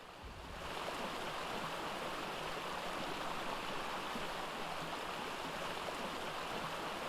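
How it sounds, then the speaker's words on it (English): Rushing water from a waterfall in the video game Ark: The Center, a steady broadband roar that starts low and swells within the first second, then holds loud and constant with no voices. "Are any of these waterfalls going to have"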